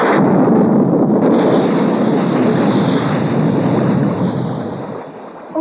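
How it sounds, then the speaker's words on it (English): A mini-submarine blows up underwater in a 1960s Thunderbirds puppet adventure, a loud, dense, roaring rumble that holds steady for several seconds before slowly tapering off. "The mini-sub sank to the bottom and was shattered by a great explosion"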